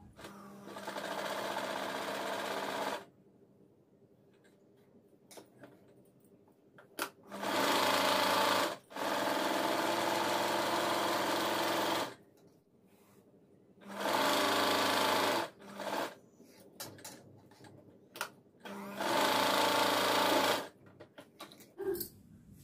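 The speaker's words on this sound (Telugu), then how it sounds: "ఇప్పుడు దీన్ని ఇలా సర్దేసుకునేసి ఇక లైనింగ్ వెంబడి స్టిచ్ వేసేసేయండి" A sewing machine runs in several long bursts, stitching a blouse sleeve along its lining, its steady mechanical whir stopping and restarting with quiet pauses between runs.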